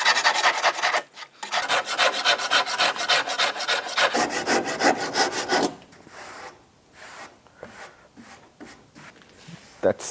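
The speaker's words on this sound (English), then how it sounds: "So this is the surf form." A surform rasp is pushed back and forth across a wooden board in quick, rhythmic rasping strokes, loud and close, then slows to scattered scrapes while someone talks over it.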